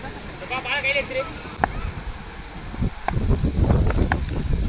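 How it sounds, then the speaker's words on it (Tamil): Strong wind at an outdoor cricket match buffets the microphone in low, rumbling gusts that build toward the end, with a voice speaking faintly underneath. "நல்லா காற்றடிக்குது."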